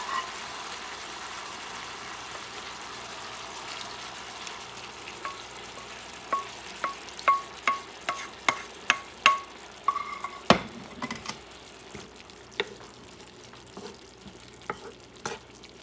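Sangria meat sauce poured into a hot frying pan and stirred, a steady sizzle broken by a series of sharp scraping and tapping spoon strokes against the pan, close and fairly loud.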